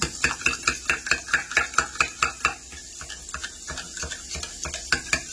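Egg fry being stirred in a pan, a quick steady run of sharp scraping taps at close range, slowing and softening midway before picking up again, with a light sizzle underneath.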